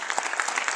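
A brief burst of clapping from a crowd at a regional political party meeting in Benevento, Italy, dense and steady, heard from a short distance.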